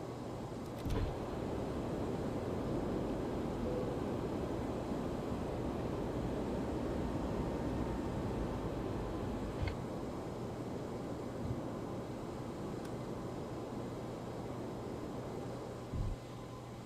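Airbus A321 in X-Plane 12 rolling down the runway and climbing out, a steady broad jet roar with a low engine hum, loud and constant throughout, punctuated by a few faint clicks and thumps.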